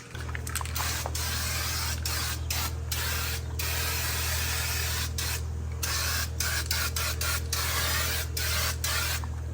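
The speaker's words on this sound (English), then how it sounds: "You gotta come in with the turbo can" Spray can applying black paint to a car body hisses in repeated short and long bursts over a constant low hum, close and fairly loud.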